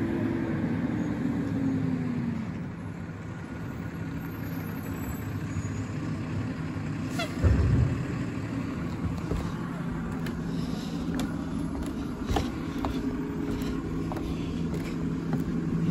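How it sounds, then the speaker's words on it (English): A GFL Environmental garbage truck rumbles steadily close by, a continuous low engine drone lasting throughout with a brief louder thump midway, and no talk over it. "We got a GFL Environmental truck out here."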